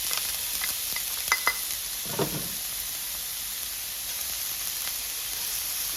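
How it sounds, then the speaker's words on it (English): Onions sauté in a pan for salmon patties, making a constant close hiss and sizzle with a few small stirring clicks and scrapes, with no one speaking. "I'm going to saute the onions"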